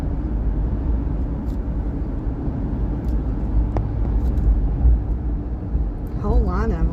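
A line of Polaris Slingshot three-wheeled roadsters cruises past on a mountain road near Lafayette, a steady broad engine and road rumble with a brief louder swell, while people talk over it.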